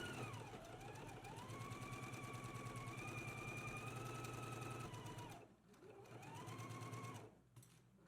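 A sewing machine stitches a seam, a fast steady mechanical chatter running close and continuous, briefly pausing near the end before resuming.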